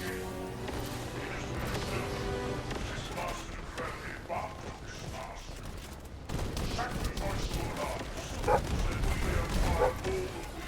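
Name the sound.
dog barking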